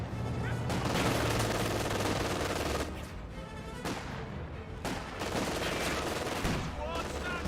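Dense, continuous gunfire on infantry in Company of Heroes 2 has machine-gun bursts and rifle shots overlapping in a loud, sustained battle din, with brief dips between volleys.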